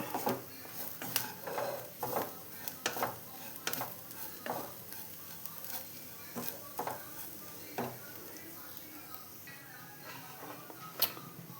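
Repeated scraping strokes of a utensil stirring grated coconut roasting in a pan, over a soft, constant sizzle, heard up close in an irregular rhythm.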